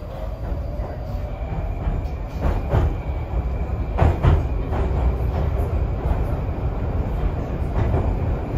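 A Moscow metro subway train runs through the underground with a loud continuous rumble, rattling carriage noise, clicking wheels over rail joints and a faint squeal, with no one speaking.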